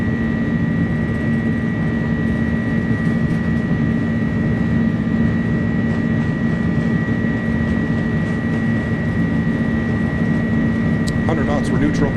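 Airbus A300 with Pratt & Whitney engines at takeoff power in Microsoft Flight Simulator: a steady, loud cockpit roar with a constant low drone and sustained whine, sounding continuously from start to finish.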